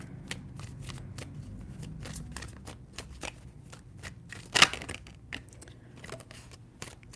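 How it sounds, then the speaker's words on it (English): Tarot cards are shuffled by hand in a quiet room, a run of soft riffling bursts and taps with one sharper, louder flurry midway, close up and without speech. "Three shuffles."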